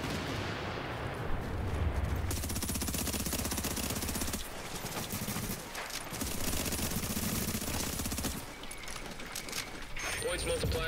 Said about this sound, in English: Fortification at Alpha is under fire.